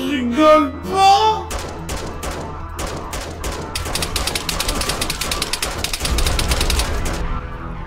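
Rapid automatic gunfire from a weapon in a video game, a few separate shots at first, then long fast bursts of crisp cracks running on to the end.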